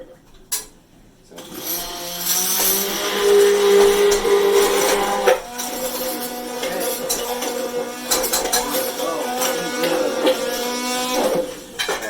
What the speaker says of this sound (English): The immersion blender doesn't fit in here, so I going to put it in this jar and mix it up in here instead